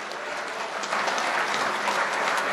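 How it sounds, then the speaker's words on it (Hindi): Sustained, loud crowd applause fills the hall at a mushaira in Qatar as a poet is welcomed to the stage, steady clapping throughout with no talk. "तो आइए अशफाक देशमुख साहब को आवाज़ दें, ज़ोरदार इस्तकबाल करें आप गुदगुदी के साथ उनका।"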